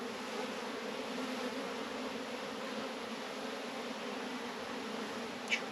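Honeybees hum steadily around an open nuc hive during a split of a swarm-prone colony, a continuous droning buzz with no voices, holding an even level throughout.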